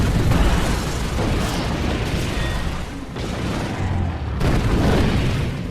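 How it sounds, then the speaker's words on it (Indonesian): A loud, sustained blast of roaring, crackling noise from a car exploding in a film, with repeated booming bursts rolling through it. "tiba-tiba sebuah mobil meledak di depan mereka."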